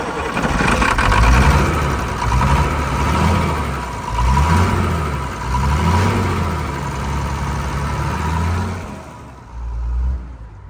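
An old crane truck's diesel engine, unused for 20 years, cranks and catches on starting spray, rumbling and surging through several rising and falling revs before cutting off abruptly near the end.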